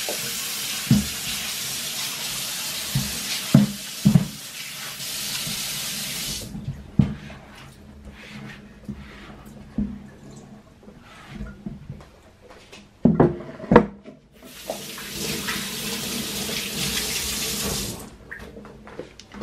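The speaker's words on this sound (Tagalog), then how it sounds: "Siguraduhin muna natin na malinis tong hiwaan. Hugasan ko muna." Tap water runs into a sink while a cutting board is washed for adobong beef tongue, a steady broad rush in two long stretches with quieter handling clatter and knocks between them.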